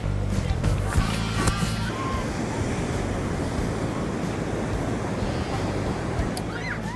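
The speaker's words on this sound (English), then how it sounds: "This is the beach, mama." Ocean waves roll onto a beach at Hoi An, Vietnam, in a loud, continuous wash of surf with wind buffeting the microphone, with a brief voice near the start.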